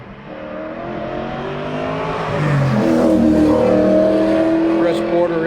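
Porsche race car engine droning and rising at Summit Point race circuit, harmonic revs building louder through the clip, with track commentary voice over it.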